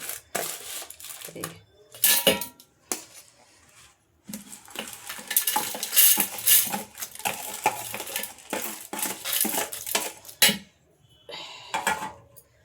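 Repeated clinks, scrapes and taps of ingredients for cucumber chutney and a spoon against a metal mixer jar, in irregular bursts with short pauses.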